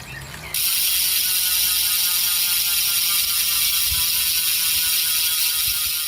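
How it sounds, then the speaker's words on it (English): An Elitewheels DRIVE 45mm disc wheel's 4-pole freehub ratcheting as the wheel spins, a loud, steady, close mechanical buzz that starts abruptly and continues unbroken. "The freehub body is 4-pole and has a relatively loud but satisfying sound."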